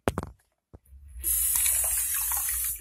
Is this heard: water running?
yes